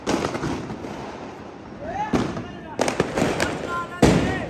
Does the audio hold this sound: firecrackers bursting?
yes